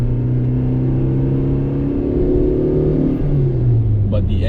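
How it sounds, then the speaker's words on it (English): A 1992 Ford Laser 1.6 GL petrol engine runs steadily at a close, loud idle, a low rumbling drone that dips slightly near the end. "But the engine is still good."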